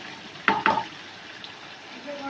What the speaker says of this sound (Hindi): पोटैटो जो हमने इसमें ऐड किए हैं वो थोड़ी देर उसे फ्राई कर लेंगे अच्छे से हिला के